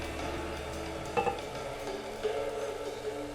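Onions with salt and pepper being stirred in a hot pan, a soft steady sizzle with a couple of brief scraping knocks from the spoon, close and without talk.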